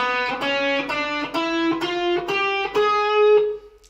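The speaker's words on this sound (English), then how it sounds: "It's the half step, whole step diminished, or some people call it double diminished." An electric guitar plays a half-whole diminished scale from E. Eight clean single notes climb one after another at an even, steady pace, and the last note rings out and fades.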